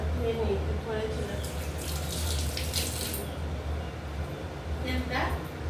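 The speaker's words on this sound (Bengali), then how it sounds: "এখন আমার একটু হাতটা ধুয়ে নিই" Hands rinsed under a running kitchen tap while making pabda fish curry, a continuous splashing stream with brief louder surges, as someone talks over it.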